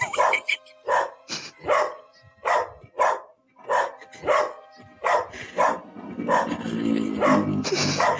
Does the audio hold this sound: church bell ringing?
no